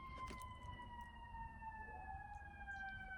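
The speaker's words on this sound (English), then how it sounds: "Do you hear the sirens?" A distant fire truck siren wails in long, steady tones that slowly fall in pitch, with a low rumble of road noise underneath.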